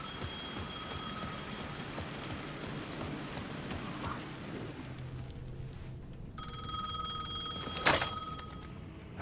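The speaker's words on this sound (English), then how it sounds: "The phone was ringing again." A telephone rings in the video game Alan Wake 2, a repeated electronic bell tone pulsing over a low, rainy ambient bed, cutting out briefly and then resuming louder near the end.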